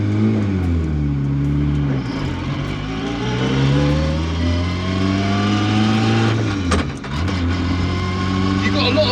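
An 800 bhp Honda S2000-powered Mk2 Ford Escort with a sequential gearbox drones and climbs steadily through the revs, then dips sharply at a gear change before pulling again, heard loud and continuous under occasional talk.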